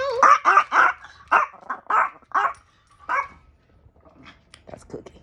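A dog barks in a packed household, a rapid run of loud, close yaps and barks in the first few seconds, then fading to quieter sounds, with a person speaking briefly.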